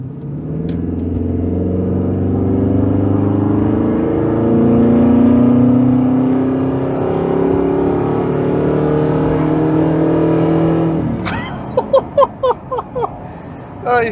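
A Ford AU Falcon XR8 V8 ute engine revs with a loud, sustained, rasping roar that rises and falls for about eleven seconds, then cuts to a few sharp bursts near the end.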